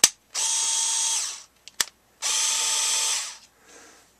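A Genesis 7.2 volt lithium-ion two-speed cordless screwdriver runs in two sustained whirring bursts of about a second each, with a short click between them and a faint trailing whir at the end.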